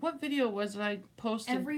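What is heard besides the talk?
No everyday noises stand out.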